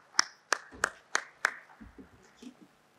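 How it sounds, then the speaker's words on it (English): Five sharp, evenly spaced hand claps ring out close by at a trade and investment summit, then trail off into faint scattered sounds. "Please join me in welcoming Mr. Abdulrazak Siad with a round of applause"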